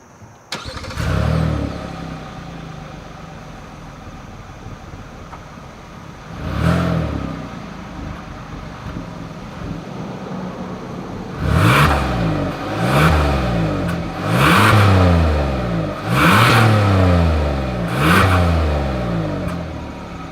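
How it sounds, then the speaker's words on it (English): A 2021 Hyundai Palisade SUV engine cranks and catches, idles steadily, then gets several sharp revs in a row with a deep exhaust note, loud and close. "As always, here is that exhaust clip."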